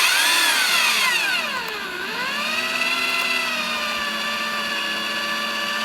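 A power drill spins a homebrew grain mill, giving a loud, steady whine that dips in pitch under load around the middle and then holds an even, continuous drone close by.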